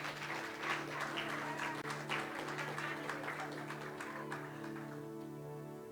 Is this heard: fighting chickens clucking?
no